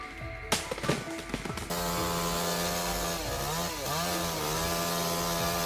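A chainsaw cuts into a giant red cedar, opening with a few sputtering bursts before settling into a loud, sustained buzzing roar that dips and rises in pitch as the chain bites the wood.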